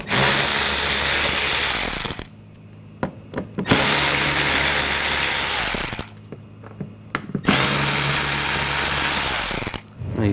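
A power drill fitted with a T20 socket whirs loudly in three long bursts, backing screws out of an engine splash shield on a 2014-2020 Nissan Rogue, with short pauses and small clicks between runs.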